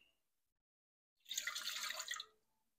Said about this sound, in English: the first thing we're going to add is 3/4 cup of water plus 2 tablespoons